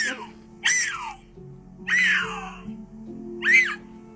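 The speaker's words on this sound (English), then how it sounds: "Just out in the wild, you hear screams like, oh, there's some cougars." Shrill, high-pitched screams rise and fall in four separate wavering cries, loud and close, over a low steady hum.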